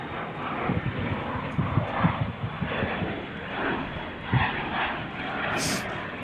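An airplane arrives on the runway at Charlotte Douglas International Airport, a steady, moderately distant engine roar with rumbling low end that holds throughout, with faint voices in the background.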